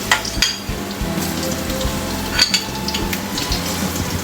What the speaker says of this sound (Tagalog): Pag mainit ng mantika, igisa ang bawang, sibuyas at luya.